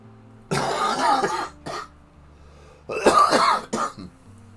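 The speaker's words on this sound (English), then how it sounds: "Still got that stupid cough." Two bursts of harsh throat-clearing coughs from a nearby person, the first a longer rough fit and the second shorter with a trailing hack, separated by quiet pauses with a faint background hum.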